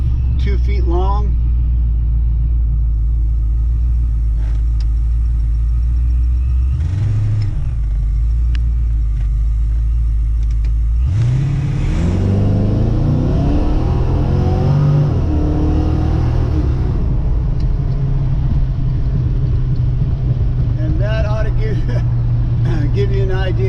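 A 1968 Ford Mustang GT350 V8 with Flowmaster exhaust and two long resonators idles with a deep, steady rumble, then revs up sharply mid-clip before settling back to a loud idle, with voices talking over it.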